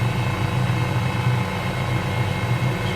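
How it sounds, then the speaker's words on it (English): A CowanSim 500E helicopter in Microsoft Flight Simulator drones with a steady, loud turbine and rotor hum, low rhythmic thumping beneath a broad hiss, with no voices. "Definitely have to work a bit harder flying this helicopter"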